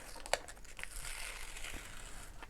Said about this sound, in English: So I'm going to take this sticker off.